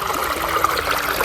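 Water flows steadily with a continuous close rushing, trickling sound, alone and without voices.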